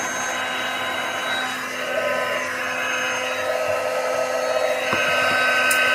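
A heat tool blows a steady, airy whirring roar close by as it warms a small piece of cardstock from the back, continuous and fairly loud, with a faint click near the end.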